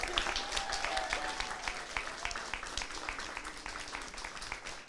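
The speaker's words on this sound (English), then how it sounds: "I would like to ask our audience to give both teams a rousing round of applause" Audience applause for both teams at an elementary school Battle of the Books competition, a steady wash of clapping from a crowd lasting several seconds, moderately distant.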